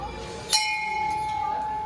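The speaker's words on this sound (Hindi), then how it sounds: "घंटी बजाते हैं।" A single bright metallic temple bell strike that keeps ringing with a long, steady tone fading slowly against a background hum.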